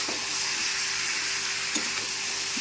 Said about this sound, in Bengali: এটা ভালো করে এখন নেড়ে চেড়ে সবগুলোর সাথে মিশিয়ে নেবো